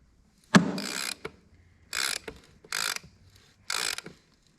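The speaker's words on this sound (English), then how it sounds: "I'm gonna take this nut off so I can slide this bolt all the way through" A ratchet clicking in short bursts as a nut is loosened on a Honda, four quick ratcheting runs separated by pauses, close and clear.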